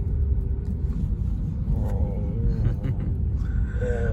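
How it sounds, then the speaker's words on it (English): An Infiniti Q70L's engine hums low and steady while driving, a continuous rumbling drone with slight rises in pitch, fairly loud inside the cabin and heard with no speech over it. "I can really hear the engine now."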